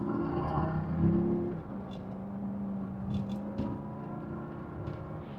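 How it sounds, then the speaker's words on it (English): Engine of a 2009 Land Rover LR2 with an inline six, driving on the road while still cold, giving a steady low rumble with a slight rise in revs near the start, then settling into an even drone. "Definitely sounds like an inline six."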